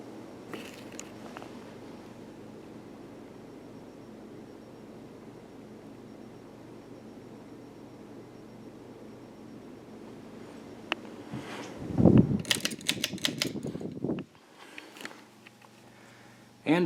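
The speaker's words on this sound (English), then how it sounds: "An old Jacksonville ceiling fan with a plastic motor housing and switch housing." An old Jacksonville ceiling fan with a plastic motor housing and switch housing runs with a steady, low, even whir for about eleven seconds, then a few louder clattering bursts and scuffs break in near the end.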